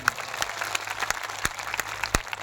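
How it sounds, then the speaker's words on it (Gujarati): A political rally audience claps, loose, uneven bursts of applause with scattered sharp hand claps over a low background murmur. "બધા માટે એકવાર જોરદાર તાળીઓ પાડી લઈએ આપણે"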